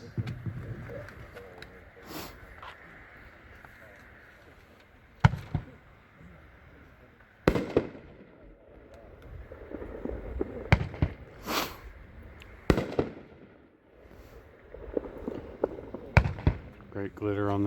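A Mother of All Bombs firework at an outdoor fireworks demo, with several loud, sharp booming bursts spaced irregularly and crackling in between, while people talk over it.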